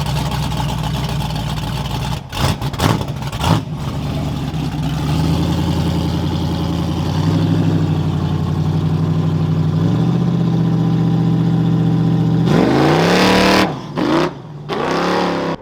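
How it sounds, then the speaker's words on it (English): Cars pulling out of a parking lot one after another, a Hummer among them, with engine rumble building and fading at moderate distance and a louder pass near the end. "The JDM power couple is leaving. And the Hummer."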